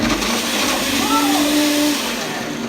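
A blender whirs loudly and steadily while mixing a disgusting mixture, a close, continuous motor roar with a rising and falling whine partway through.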